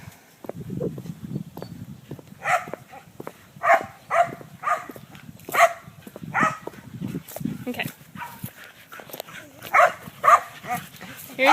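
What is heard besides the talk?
dogs barking in a round pen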